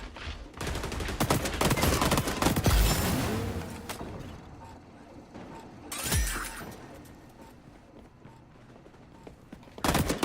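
A deployed turret firing in XDefiant: dense, rapid bursts of automatic gunfire amid chaotic combat noise, easing off mid-clip before a sharp shot and a renewed burst at the end.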